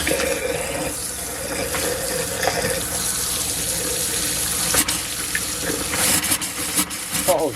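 Hot water pours steadily from a tap in a continuous rushing stream, with faint voices and small clatters in the background.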